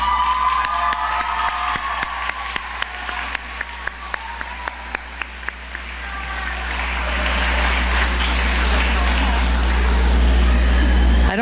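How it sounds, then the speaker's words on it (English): A graduation audience applauds at a university ceremony. Sharp claps open the clip, then build into a swelling wave of sustained clapping with cheers and whoops that grows louder toward the end. "and give them your applause"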